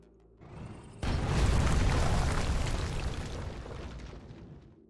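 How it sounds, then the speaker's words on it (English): Cannon shot explodes in the sci-fi strategy game Age of Wonders Planetfall: a sudden loud blast hits after a brief mechanical windup, then a dense rumbling roar that slowly fades over several seconds, with no talking. "if I drive over here and shoot him with a cannon"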